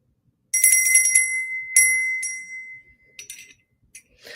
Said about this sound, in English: Love the sound of this claw bell.